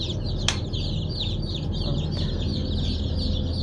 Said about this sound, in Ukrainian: Ось такі сьогоднішні курчатка.